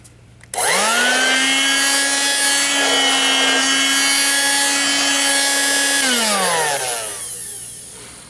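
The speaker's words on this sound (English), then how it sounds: "for some reason the motor sounds kind of weird" A Dirt Devil handheld vacuum with an odd-sounding motor switches on sharply and whines at a steady, loud pitch for about five seconds, then winds down and fades away.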